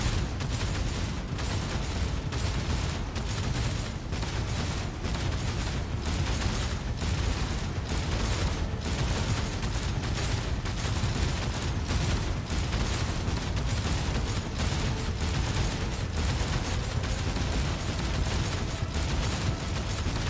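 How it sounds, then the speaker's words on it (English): Heavy gunfire and battle chaos come through a radio transmission in Warhammer 40,000: Rogue Trader. It is a dense, continuous roar with rapid crackling bursts that holds at a steady loudness for the whole stretch, with no clear talking. "They all transmit the sound of gunfire and death screams"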